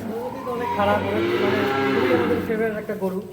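A cow in Dinajpur, Bangladesh moos in one long, deep, wavering call that fills the moment, close and loud, with faint voices around it.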